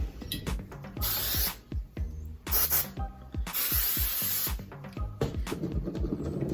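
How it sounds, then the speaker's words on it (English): Several short bursts of hairspray hiss close by onto an updo, separated by soft rustling and handling noises, with no voices. "You're gonna spray it with hairspray like I just did"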